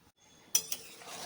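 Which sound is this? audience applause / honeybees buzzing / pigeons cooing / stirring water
stirring water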